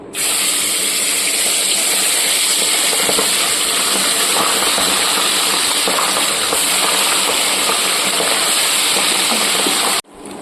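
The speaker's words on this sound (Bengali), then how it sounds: "এবার পাবদা মাছগুলোকে আমি ভেজে নিচ্ছি।" Pabda fish frying in hot oil in a pan, a loud steady hiss and sizzle with a sputtering wash of spray that holds constant for about ten seconds, then cuts out abruptly.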